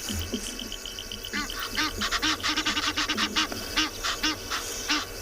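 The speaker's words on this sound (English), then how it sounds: "The Egyptian geese have already seen the lion, that's why they're going bizarre there" Egyptian geese honk and call repeatedly in a noisy, overlapping alarm chorus at a nearby lion on a sunrise safari, loud and fairly close, with rapid bursts of harsh cries.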